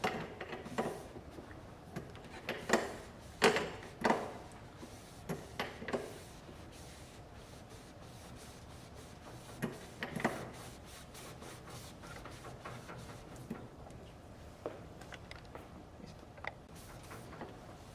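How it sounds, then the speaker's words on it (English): Cloth wiping the fold rolls of a Baum 714XLT folding machine while its hand wheel is turned, giving a soft continuous rubbing broken by irregular clicks and knocks, close and quiet with no talk. "While I'm wiping, I'm also turning the hand wheel on the fold rolls"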